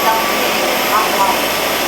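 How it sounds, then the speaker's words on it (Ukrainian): Dreame H15 Pro Heat wet vacuum running its self-cleaning cycle on the docking base, giving a steady, even motor and pump whir that holds at a constant level throughout. "Давайте ставимо на базу самоочищення пилосос і побачимо, що станеться після вже очищення."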